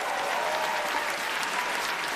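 A comedy show audience breaks into dense, sustained applause, an even roar of clapping from many hands that holds steady throughout.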